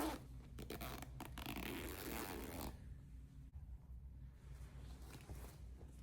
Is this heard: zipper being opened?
yes